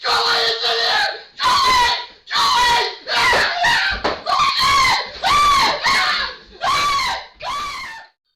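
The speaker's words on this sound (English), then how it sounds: "The man, clearly terrified, responds with a scream" A terrified man screams repeatedly in an office after a squirrel jumps into the room, with about eight loud, strained bursts separated by short gaps, close and dominant throughout.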